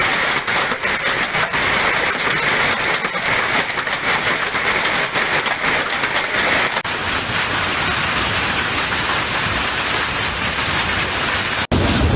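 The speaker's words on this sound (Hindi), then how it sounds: "प्री मानसून की तूफानी बारिश ने तबाही मचा दी" Stormy pre-monsoon rain pours steadily and loudly for the whole stretch, a dense hiss of downpour with low thunder rumbling beneath and the roar thickening partway through.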